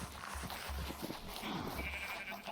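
Sheep in the farming video game Reclamation bleat several times in quick succession, soft and fairly distant over a low background hum.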